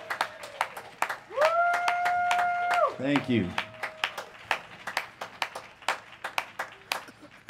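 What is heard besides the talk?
audience applause at a jazz concert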